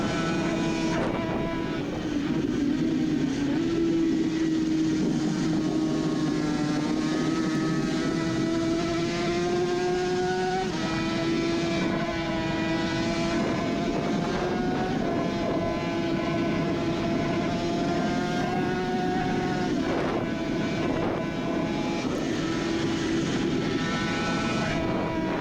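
A Suzuki RG500 two-stroke racing motorcycle screams onboard at high revs, its loud engine note rising and dropping through gear changes without a break.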